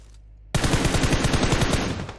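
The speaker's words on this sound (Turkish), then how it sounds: "Baya yoğun bir çatışma sesleri var burada." Dense automatic gunfire in the PUBG Mobile battle royale game bursts in after a quiet half second, rapid overlapping shots continuing loud and close with no talk over them.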